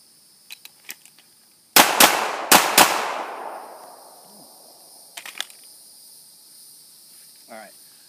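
Three sharp handgun shots ring out at an outdoor range during point shooting at targets, loud and close with echoing decay, followed by faint clicks and distant pops.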